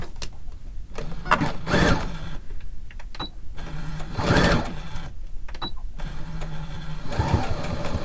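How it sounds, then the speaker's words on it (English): A sewing machine stitches quilt backing in repeated bursts of fast mechanical whirring, each run a second or two long with short pauses between. A few soft clicks are heard, and no one talks. "Just start sewing"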